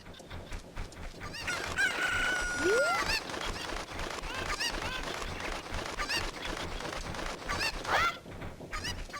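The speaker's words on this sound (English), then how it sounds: "So we've now got 3 chickens in this local area that we can grab." Chickens cluck and a rooster crows in the village of Kakariko in the video game Zelda: Ocarina of Time, with several loud, close calls among busy background sounds.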